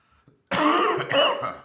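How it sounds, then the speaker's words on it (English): A single harsh, drawn-out cough, loud and close, preceded by a faint breath. "Terrible cough."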